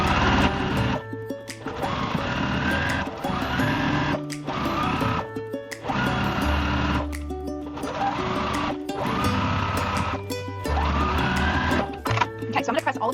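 A sewing machine stitches a quilt with 60 weight polyester thread, running in rapid mechanical bursts of several seconds broken by brief pauses, loud and close throughout.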